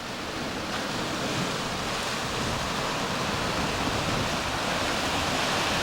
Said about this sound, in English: You get a big wave about every 12, we'll call them waves.